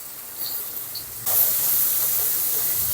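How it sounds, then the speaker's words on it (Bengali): Carrots fry in oil with a steady, close sizzling hiss that jumps louder partway through and carries on evenly to the end. "এখানে আমি গাজরটা দেবো গাজরটা ভেজে নেব"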